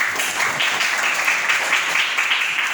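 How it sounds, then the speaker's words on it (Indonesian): Classmates applaud a student in a classroom, a steady wash of hand clapping lasting a few seconds with no voices over it. "Tepuk tangan buat Anas"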